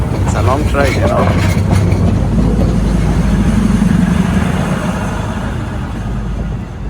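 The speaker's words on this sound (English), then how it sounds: "It's a long train, you know." A long train rumbles past close by in Bangkok, a steady low roar with rhythmic rail clatter that fades slightly toward the end, with a voice speaking over the start.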